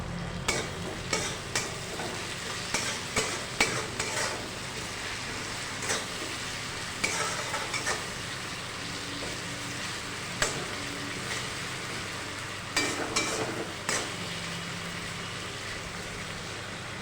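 Onions frying in oil in a pan while a Bengali rui kalia curry is cooked, with a steady hiss of sizzling and repeated scraping stirs of the spatula, heard close and alone.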